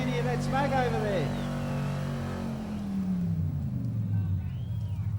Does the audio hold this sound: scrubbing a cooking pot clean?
no